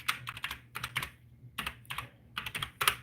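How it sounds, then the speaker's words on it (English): Bursts of quick, crisp key clicks on a computer keyboard come in short clustered runs with brief pauses, close and fairly quiet, with no talking. "Let me type this in."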